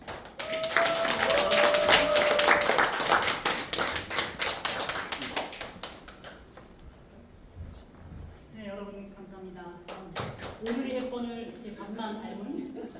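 Brief burst of audience clapping at a Korean music performance event, loud and dense for a few seconds then fading, followed by someone speaking and laughing.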